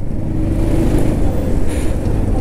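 Steady road rumble from riding a KTM Duke 390 motorcycle through heavy traffic, a constant low engine and vehicle drone with a faint rise near the middle, close and loud, no voices.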